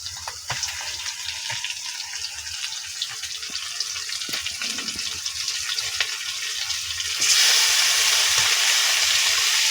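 Meat added to a pan of half-fried onions for kosha mangsho, a steady hiss of sizzling that swells abruptly into a louder, brighter sizzle near the end, no talking.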